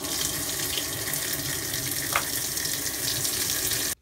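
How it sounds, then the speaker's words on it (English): Water rushing steadily into a front-loading washing machine running in diagnostic mode during a drain pump repair; a constant hiss and splash of filling water, close and uninterrupted, ending abruptly. "now we're going to put a little water in there"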